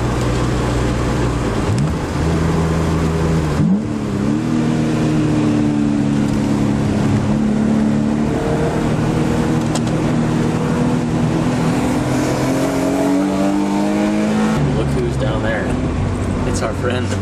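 Loud car accelerating hard through a corner on a street, engine revving up and down in rising and falling sweeps, close by, with voices talking over it.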